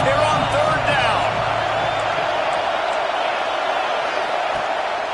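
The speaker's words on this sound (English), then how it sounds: "This Auburn crowd trying to conjure up a little magic here on 3rd down." A large Auburn football stadium crowd roars steadily on third down, a dense sustained wash of cheering and shouts with a louder burst at the start, while a commentator talks over it.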